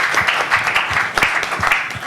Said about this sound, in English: So give yourselves a warm round of applause.